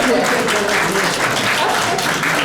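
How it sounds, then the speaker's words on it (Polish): An audience at a Christmas wafer gathering of a blind association claps loudly, a dense, continuous burst of applause filling the room for a few seconds. "Brawa dla pana"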